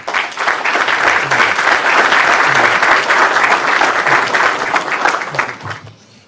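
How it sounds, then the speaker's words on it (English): An audience at a lecture claps loudly and steadily for about six seconds to welcome Rabbi Tobia Singer, with the applause tapering off at the end. "Let's take a round of applause to welcome Rabbi Tobia Sinגר"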